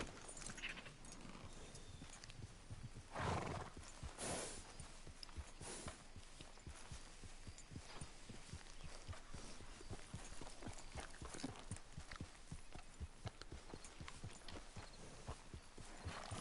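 A horse in the video game Red Dead Redemption 2 walks with steady, rhythmic clip-clopping hooves, close and continuous over a quiet outdoor ambience.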